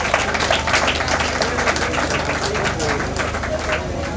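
An audience applauds at a two-year anniversary event, steady crowd clapping throughout with a voice talking over it.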